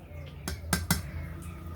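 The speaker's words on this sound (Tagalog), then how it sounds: "doon ipasok rin ang kaldero na ito" A metal cooking pot used for a herbal steam treatment is handled close by, giving a few sharp metallic clinks and clanks over a low background murmur.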